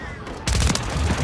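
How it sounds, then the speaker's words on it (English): Grenade launcher firing in a Call of Duty video game, a short loud burst of blasts that cuts in abruptly after a quieter moment. "somebody's shooting a grenade launcher"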